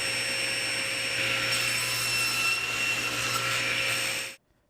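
A power saw cuts 12-inch by 12-inch boards against a stop block in a woodworking shop, a loud steady whining buzz that runs for about four seconds and then cuts off abruptly.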